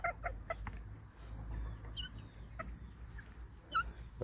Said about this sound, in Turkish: Şunlar kırma tavuklarımız.